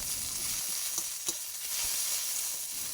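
Fresh mint leaves fry in hot oil with a bright, constant sizzle, close by, with a few soft clicks of a spoon stirring through, and no one talking.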